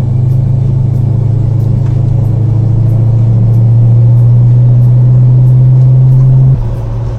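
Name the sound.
1969 Dodge Charger R/T car driving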